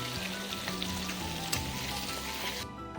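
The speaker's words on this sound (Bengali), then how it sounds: "দেখো মাছগুলো এক এক করে ভেজে নিচ্ছি" Pieces of Katla fish fry in a pan with a steady, moderate sizzle close by, over a faint tonal background.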